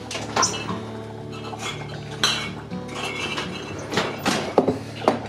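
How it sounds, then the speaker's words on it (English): Heated glass jars clink and knock against each other and a hard surface as they are lifted and set down for lard making, with scattered clatter over a steady background hum. "Pulling the jars out."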